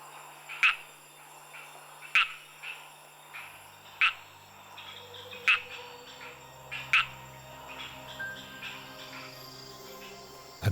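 Several Madagascar frog species give mating calls at night in the jungle: sharp, clicking chirps repeat about every second and a half over a soft chorus of insects and more distant frogs.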